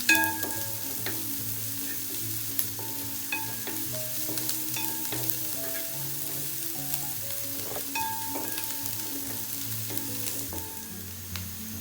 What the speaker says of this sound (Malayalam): വെളുത്തുള്ളി ഇഞ്ചിയും കൂടി നമ്മൾ ഇതിലിട്ട് കൊടുക്കുക. നമ്മൾ നല്ലതൊന്ന് വഴറ്റിയെടുക്കണം.